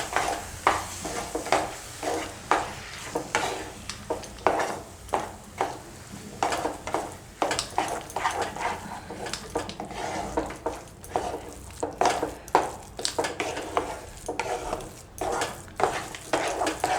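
Grated sweet potato mixture stirred in a pan over a low gas flame, with repeated rhythmic scraping strokes of a utensil against the metal under a faint background sizzle.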